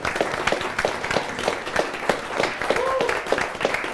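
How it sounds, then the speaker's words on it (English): An audience claps and applauds at a fantasy role-play event, steady mixed clapping throughout, moderately loud and fairly close, with some voices murmuring underneath. "So let us bow to them and applaud."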